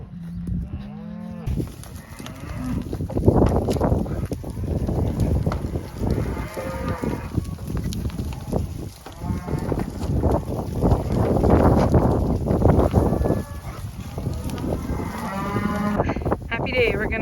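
Cattle moo repeatedly in working pens while preg testing and weaning, with several loud, drawn-out bellows overlapping from close and farther away amid steady outdoor wind and shuffling.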